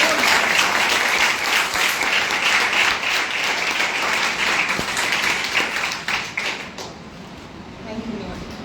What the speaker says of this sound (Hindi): एक जोरदार तालियां यीशु मसीह।